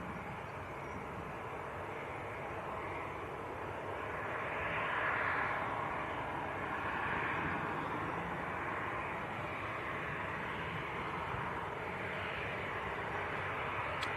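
A Boeing 737-800 departs Manchester Airport for Toulouse, its jet roar a broad steady rumble that swells slightly mid-pass and holds at a fairly distant, even level throughout, with no voices.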